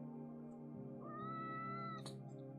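A tabby cat gives a single drawn-out meow that rises in pitch and then breaks off into a short sharp tail. It sounds close and fairly quiet, heard alone over a faint steady hum.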